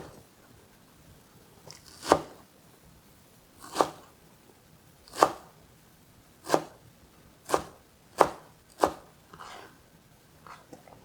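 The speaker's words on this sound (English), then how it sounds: "Let's go and chop our dill. It doesn't have to be very fine, it just roughly is okay." A knife roughly chopping fresh dill on a cutting board, seven sharp distinct thuds spaced about a second apart, close and clear against a quiet kitchen background, with no talking.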